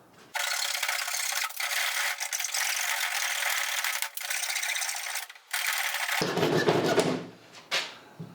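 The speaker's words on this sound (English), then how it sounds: "try to saw through as much of the 2x4 as possible" A survival cane's built-in saw cuts through a 2x4, giving a loud, continuous rasping stroke for about six seconds. It then shifts to rougher, uneven scraping and fades out at the end. No one speaks.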